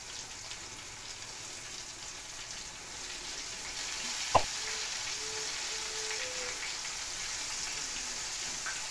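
Squid chicharrones fry in hot oil with a steady, soft, hissing sizzle. A single sharp pop or click stands out midway, followed by faint short tones.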